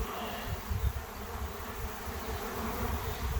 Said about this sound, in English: It's going to be a small swarm because it's a virgin queen